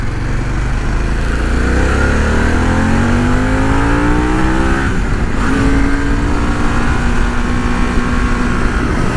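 A Harley-Davidson Pan America motorcycle accelerates hard, its engine pitch climbing through the gears with a brief dip at a shift midway, loud and close over heavy wind rush.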